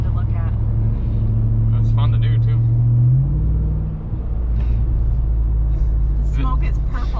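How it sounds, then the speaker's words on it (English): A 2021 Ram Rebel TRX pickup truck spins donuts, its engine roaring loud and steady with a rising then dropping drone, while someone talks over it. "Just the ridiculousness of a giant pickup truck leaning to one entire side as it spins around."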